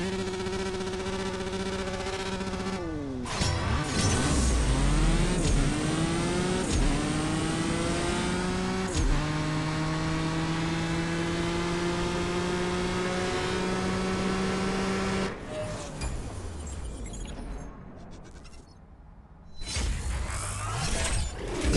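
Aston Martin Vanquish engine racing in CSR Racing 2, a loud revving drag-race run with the pitch repeatedly climbing through the gears and dropping at each shift, then easing off and falling quiet before a final rev.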